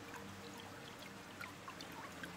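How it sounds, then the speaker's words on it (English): Stream flowing outside near a papermaking workshop, faint continuous trickling and burbling water with soft splashes, quiet and steady. "I decided to walk outside to hear the sound of the stream."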